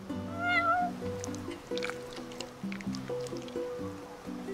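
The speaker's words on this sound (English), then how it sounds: "Meow. You're one spoiled cat." A cat in the video game Final Fantasy XV gives a short, rising meow near the start, followed by wet, squishy eating sounds. Gentle background music plays throughout.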